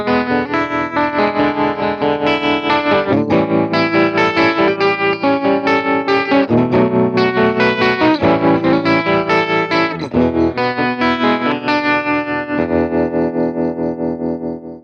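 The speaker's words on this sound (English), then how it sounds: "So I have a speed and a depth knob to dial in some really cool trem." Electric guitar through a Vox AC30 amp with tremolo, chords and melodic lines pulsing in a steady, rapid volume throb, loud and close, ringing out at the end.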